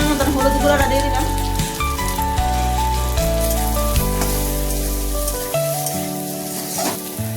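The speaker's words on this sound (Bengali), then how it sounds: "ভালো করে আমি কষিয়ে নিয়েছি আলু" Potatoes sautéing in a pan with ginger and green chili paste and turmeric, sizzling loudly and continuously with stirring clatter throughout, no talk.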